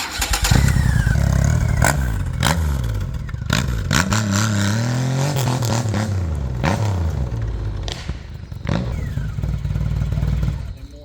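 A 2009 Triumph Rocket III motorcycle's big engine idles loudly and is revved in repeated blips, each rise in pitch falling back to a deep rumble, close and alone throughout.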